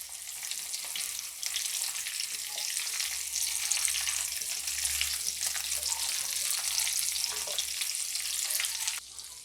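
Chillies and carrots sizzling and frying in a pan for a quick pickle, a steady loud hiss running throughout with faint stirring movements beneath it, close and continuous until it briefly drops off at the very end.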